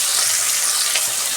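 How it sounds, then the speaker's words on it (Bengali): Fish fries in hot oil in a wok, giving a loud, close, dense crackling sizzle that runs without pause through the short moment, with no voices. "তেল গরম হয়ে গেছে, মাছটা আমি ভেজে নিচ্ছি।"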